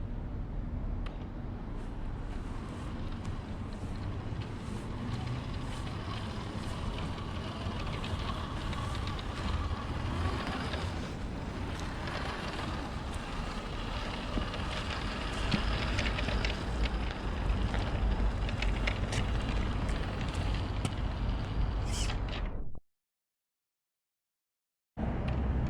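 Small RC car fitted with Hot Racing locked differential spools (CB1025X) driving continuously in a steering test, a steady rough broadband rumble and whine close to the mic, then a brief dropout before the sound returns.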